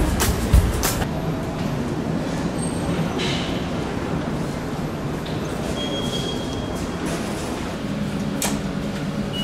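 An L3 train rumbles past in Alicante, Spain, at a steady level, with a brief metallic squeal partway through and a few sharp clanks.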